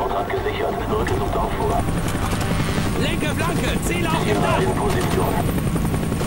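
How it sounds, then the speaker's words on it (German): A helicopter in the video game Call of Duty: Black Ops gives a steady rotor drone under loud gunfire and excited German shouting from the players. "Hubschrauber!"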